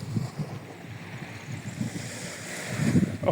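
Ocean waves wash onto a beach in Tunisia in soft, low rolling pulses, mixed with gusts of wind buffeting the microphone.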